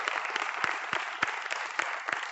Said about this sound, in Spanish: le aplaudimos a él